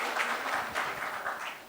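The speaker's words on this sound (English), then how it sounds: "so let's have a round of applause." An audience at a panel discussion applauds the moderator, a short burst of moderately distant clapping lasting under two seconds.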